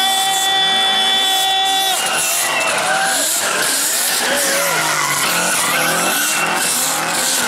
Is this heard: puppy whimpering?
no